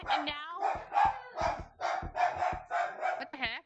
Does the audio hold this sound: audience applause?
no